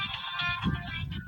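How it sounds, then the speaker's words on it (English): A phone rings steadily with an electronic ringtone tone, heard near and at moderate volume, with no voices over it. "Answer the phone."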